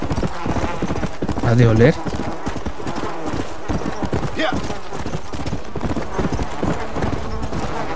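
Hooves clatter in a quick galloping rhythm from a horse in Red Dead Redemption: Undead Nightmare, loud and close, while someone speaks Spanish over it.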